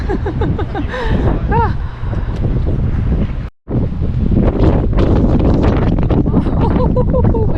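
Strong wind at Bamburgh Castle buffets the microphone in loud, continuous roaring gusts, with a brief drop to near silence midway before the rumble returns.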